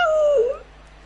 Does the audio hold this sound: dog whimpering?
yes